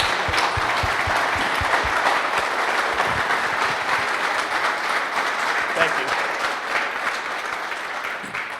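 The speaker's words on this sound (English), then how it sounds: "if you guys would give our wonderful guest a round of applause." An audience gives sustained, steady applause for a guest speaker at an airline talk, with a broad, even wash of clapping lasting throughout and a few sharper nearby claps at the start.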